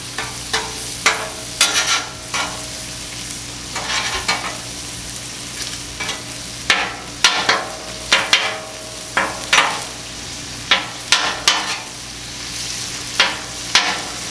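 Onions sizzle steadily on a Blackstone griddle for Philly cheesesteak, broken by frequent sharp spatula scrapes and clacks against the flat-top, close and fairly loud, with no talking.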